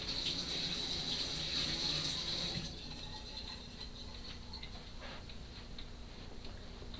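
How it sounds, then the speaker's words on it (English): Tap water runs and splashes as harvested greens are rinsed of sand, a steady close gush that is louder at first and then settles to a softer flow. "I'm going to rinse this off a little more. It's got a little more sand on it."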